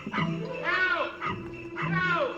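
A dog in The Pink Panther (1963) gives a few short yips and whimpers in quick bursts, mixed with overlapping talk at moderate volume.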